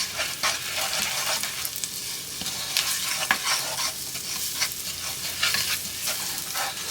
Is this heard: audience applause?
no